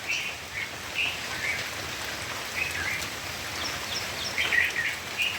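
Heavy monsoon rain falls steadily on surfaces in a dense, even patter, with birds chirping intermittently in the trees nearby and no voices.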